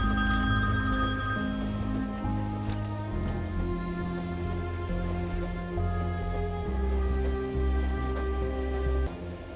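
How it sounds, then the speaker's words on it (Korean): A telephone rings repeatedly in short bursts on a train in the game Beholder Conductor, over a sustained, droning musical background, steady and moderately loud throughout. "열차로 전화가 와서 전화를 받자"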